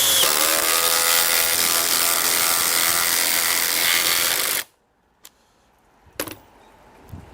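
A DeWalt 860 impact driver hammers a 3-inch by 3/8-inch lag bolt into wood with no pilot hole, a loud, dense, continuous rattle for about four and a half seconds before it cuts off sharply, followed by a few faint knocks.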